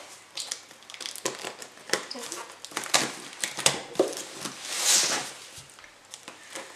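A delivery box opened by hand, with cardboard and plastic packaging crinkling, crushing and rustling in uneven close bursts, plus one louder crinkle partway through.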